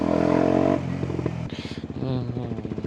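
Kawasaki Ninja 125 motorcycle ridden in second gear, its engine droning steadily at first, then dropping and pulsing unevenly through a shift, with wind and clatter mixed in.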